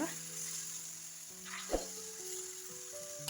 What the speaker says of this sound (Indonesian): Diurak-arik semua bahan dan juga bumbunya hingga tercampur merata dan menyatu